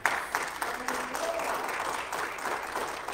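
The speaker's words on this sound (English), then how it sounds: "Go ahead, y'all, clap your hands." An audience claps steadily, a dense patter of many hands at moderate loudness, with a faint voice underneath.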